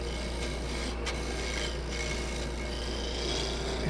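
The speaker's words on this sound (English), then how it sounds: "I could just lay a skew down flat on there like so and do the same thing" A skew chisel laid flat cuts a wooden mallet spinning on a lathe, giving a steady, close scraping rasp with slight shifts in texture.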